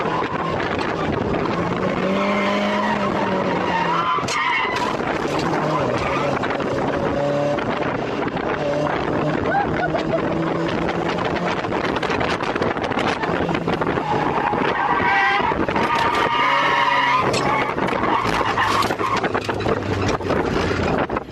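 Small Mazda MX-5 lapping a race track, its engine droning steadily with rising and falling revs, heavy wind buffeting over the sound, no talk.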